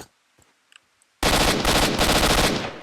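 Automatic gunfire in S.T.A.L.K.E.R. Shadow of Chornobyl: after a few faint clicks, a sudden loud sustained burst of rapid shots blasts close and continuous to the end.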